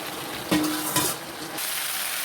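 Jackfruit pieces tumble into a hot pan of shrimp and jackfruit seeds, bursting into loud sizzling with a couple of stirring scrapes and a clink, then a steady hiss.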